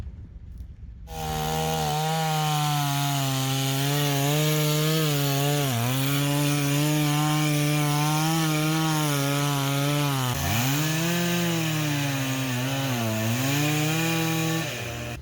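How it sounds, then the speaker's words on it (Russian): Power saw cutting through a pipe on a 400-tonne sunken ship at about 10 metres depth, a loud, steady droning whine that wavers and dips in pitch while it runs continuously after a brief quiet start. "Отпилить трубку надо."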